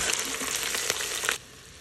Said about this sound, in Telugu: Potato small small pieces cut చేసుకొని వేసుకొని ఫ్రై చేసుకోవాలి.